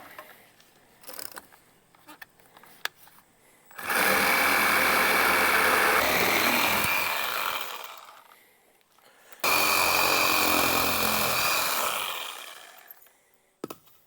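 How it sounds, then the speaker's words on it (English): A power saw cuts through 4x4 wooden posts on a playhouse porch in two loud, sustained bursts of several seconds each, with quiet handling noises and pauses before and between the cuts. "So with the framing done, I can go ahead and cut these 4x4 posts off."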